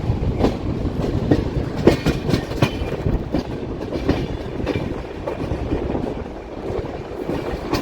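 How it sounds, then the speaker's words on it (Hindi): The Tamil Nadu Sampark Kranti Express, departed from Jhansi toward Delhi, rumbles along at speed with steady wheel clatter and rhythmic clickety-clack over rail joints, loud and close from on board, no voices. "झांसी से ट्रेन हम लोगों की डिपार्ट हो चुकी है दिल्ली के लिए"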